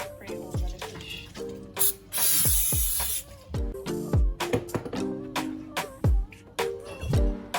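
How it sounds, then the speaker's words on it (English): Palm oil spray misted over large fish being prepared for Jamaican jerk, several sharp hissing bursts of varying length mixed with clicks and handling knocks, close and fairly loud. "and just spray over the fish."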